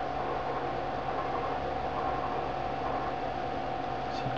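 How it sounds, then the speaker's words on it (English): A train passing outside, heard as a steady broad rumbling wash with a faint sustained hum, continuous and muffled as if through walls, with no voices. "Train going past outside"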